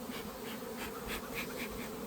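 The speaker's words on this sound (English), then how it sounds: "I'm seeing bees, probably not quite wall to wall" Honey bees in an opened hive make a close, continuous buzz, with individual bees droning past in short swells above the general hum.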